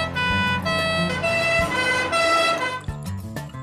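A cartoon ambulance siren wails loudly and steadily in tonal, pitch-shifting bursts, heard alone with no talking.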